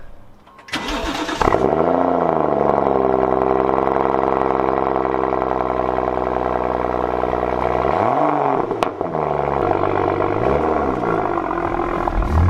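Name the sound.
BMW M235i turbocharged 3-litre 6-cylinder petrol engine running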